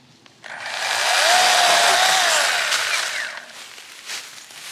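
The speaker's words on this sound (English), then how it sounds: "we'll cut the same tree, both saws." A Ryobi 18-volt 8-inch cordless pruning saw revs up and cuts through a roughly six-inch tree, its whining motor rising to a loud sustained buzz for a few seconds before easing off.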